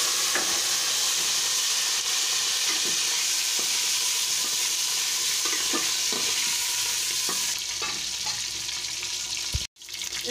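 Whole cumin seeds fry in hot oil for chicken pulao with a constant loud sizzle, stirring scrapes breaking through, until the sound cuts off sharply near the end.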